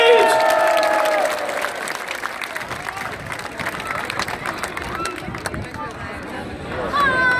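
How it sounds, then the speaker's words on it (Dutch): Large crowd at the Ajax football club open day applauding a player, sustained loud clapping with cheering spread across the whole stretch, while an announcer's amplified voice carries over it at the start. "Mag ik eenmaal een heel groot applaus voor Dusan Tadić!"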